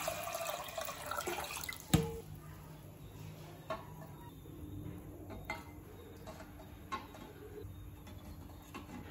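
Water pours during street-food preparation of egg bonda, with a moderate splashing flow, a sharp clink early on and light utensil clatter in a quiet setting.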